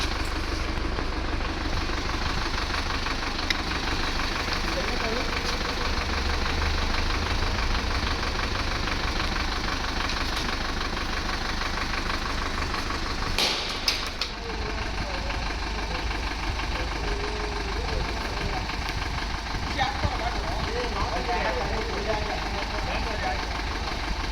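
A tour van from Tumkur idles with a steady, low, rumbling engine throb that runs unbroken and fairly loud, while people talk over it.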